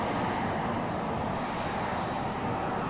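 A steady, loud jet roar from an AV-8B Harrier in flight in the X-Plane 11 simulator, a continuous broadband rush with no variation or talk over it.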